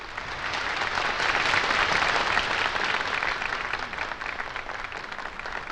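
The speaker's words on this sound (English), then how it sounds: "The audience burst into applause" A large audience at a 1975 church General Conference breaks into sustained applause, dense and loud, swelling and then slowly tapering off.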